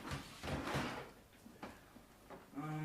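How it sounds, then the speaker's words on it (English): A camera near a shelf holding a NAS gets bumped, giving a few muffled knocks and scraping clatters close by. "I think I just knocked the camera"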